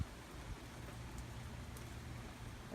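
Light rain falling during Hurricane Irma in Dunedin, Florida, on a street paved with crushed seashells, a steady soft hiss of drops with a low rumbling wash underneath, quiet and continuous throughout.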